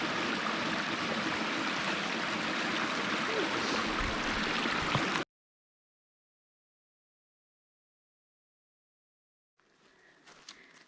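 A small brook flows steadily in a wooded hiking setting, a dense close rush of water for several seconds that cuts off to silence, then returns faintly near the end.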